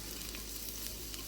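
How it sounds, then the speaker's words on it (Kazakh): Onions frying in the oil left from browning minced meat, a steady close sizzle with faint crackle throughout, no voices. "осы майымызға, жаңағы фаршты қуырған майымызға пиязды қуыра беріңіздер"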